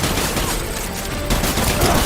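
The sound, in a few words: shotgun fire in Death Stranding video game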